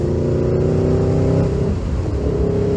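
An Aprilia RSV4 superbike engine runs loud and close with a steady, throaty hum that holds, then eases and dips in pitch before settling again.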